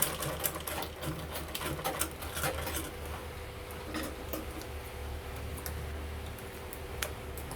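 A sewing machine stitches a zip onto a pyramid-shaped bag, running in a steady, close mechanical patter with brief ticks and pauses, with no talking.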